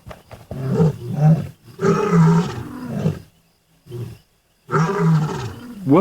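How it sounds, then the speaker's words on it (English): A lion roars in powerful, close, deep bursts, a few long heaving calls separated by brief silences, marking its territory on the African plains. "The lion's roar advertises their ownership of a territory."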